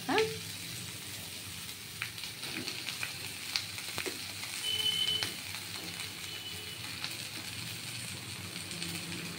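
Fried onion, chickpeas and potato sizzle steadily in a pan for a Bengali-style pumpkin chhokka, an even crackling hiss with occasional soft stirring scrapes, close and constant throughout.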